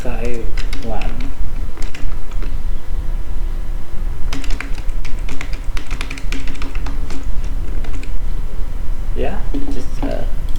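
Quick clicks from a computer keyboard come in short bursts of typing, heard beneath a person talking nearby.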